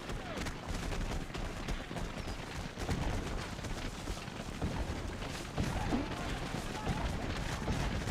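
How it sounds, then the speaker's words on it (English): Artillery fire in the Civil War battle game Take Command 2nd Manassas, a constant rumbling barrage of distant booms and crackling volleys rolling on without letup, thick and steady throughout. "Geez, that's a lot of artillery we're getting hit with."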